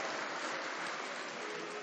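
Continuous crowd applause from an audience at a mushaira, an Urdu poetry gathering (Dewa Sharif All India Mushaira, 2018), dense, steady clapping throughout without a break or voices.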